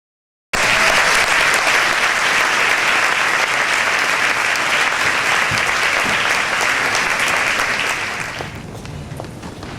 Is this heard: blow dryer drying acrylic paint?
no